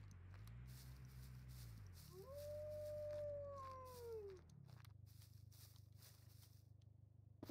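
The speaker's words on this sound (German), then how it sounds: "Wölfe, ich habe einen Wolf gehört." A wolf howls in a video game, one long rising and falling howl rising above low ambient game music, fairly clear and mid-distance, then fading back into the background.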